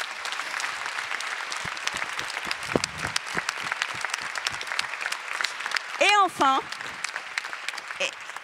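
An audience at a women's forum event claps steadily throughout, with a few sharp whistles rising above the applause near the end.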